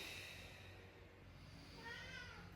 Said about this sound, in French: vous entendez mon petit chat Suzy qui vient faire coucou.